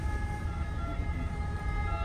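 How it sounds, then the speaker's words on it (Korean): An ambulance siren wails steadily on a busy street on the way to Vatican City in Rome, loud and close throughout with traffic rumble beneath and no speech. "앰뷸런스가 지나가고 있죠."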